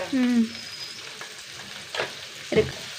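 Turmeric powder and spices fry in a hot pan for a curry, with a steady close sizzle broken by a couple of brief stirring scrapes.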